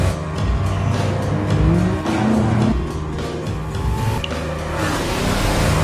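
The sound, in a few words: Koenigsegg car driving in a video game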